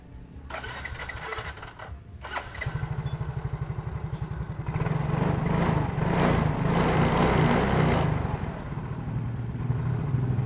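A Yamaha Mio scooter engine idles nearby with a rapid, uneven putter, then revs up louder and holds the higher speed before easing slightly, with clicks and rattles at the start.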